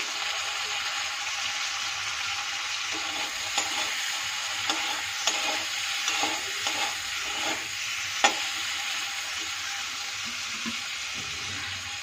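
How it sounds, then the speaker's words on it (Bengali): Tomatoes frying in a pan for Bengali rohu fish curry, a steady soft sizzle with occasional spoon taps and stirring scrapes, fairly quiet and without talk. "আমি টমেটোগুলো দিচ্ছি"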